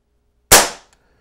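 A single sharp report from a BSA Gold Star air rifle, loud and close, with a quick decay and a faint tick just after, then silence.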